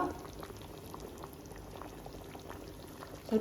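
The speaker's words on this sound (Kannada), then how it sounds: "ಇವಾಗ ಅದು ನೀವೇ ನೋಡ್ತಿರ್ಬೋದು ಕುದೀತಾ ಇದೆ." Brinjal curry (ennegai) simmers in a pot with a soft, continuous bubbling, fairly faint and close, with a slightly louder burst of bubbles at the end.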